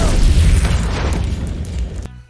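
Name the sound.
explosion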